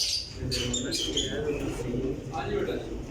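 Rampuri pigeons coo and chirp in a loft while someone talks over them throughout, the birds' calls rising in short bursts beneath his voice.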